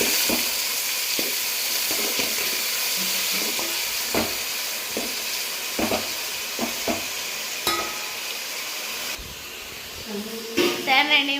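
Onion, green chilli and tomato sizzle in hot oil while a spoon scrapes and stirs through them, sounding as sharp irregular knocks and scrapes over a continuous frying hiss. A voice talks at times.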